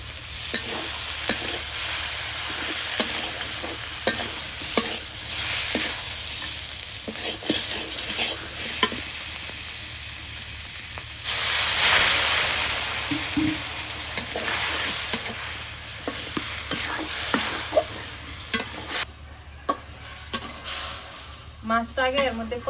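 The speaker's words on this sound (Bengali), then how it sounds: "মাছটা আগে এর মধ্যে কষাই নিই ভালো করে" Fish head and pieces frying with salt, turmeric and chili powder in a pan: a constant sizzle with repeated scraping stirs of a utensil against the pan, close and fairly loud.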